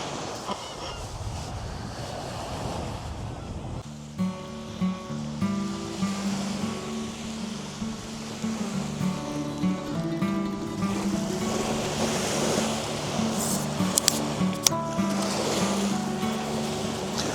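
Waves wash onto a deserted beach in a steady, moderately loud surf, with tonal honking or bird-like calls and a faint hum layered over it; no one speaks.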